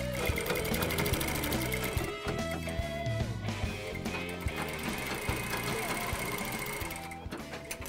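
A sewing machine runs at close range, its needle mechanism chattering in a steady, fast rhythm that pauses briefly now and then before picking up again, with a voice heard faintly in the background.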